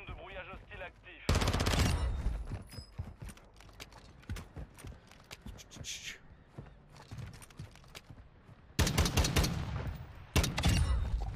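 Tempus rifle bursts in Warzone 2, several loud, dense stretches of rapid shots separated by quieter game sounds.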